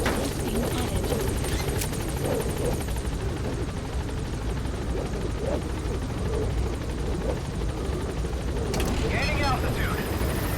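In Metal Gear Solid V, a helicopter lifts off from a landing zone with a loud, steady rotor roar and engine drone, punctuated by a couple of sharp clanks and a radio voice.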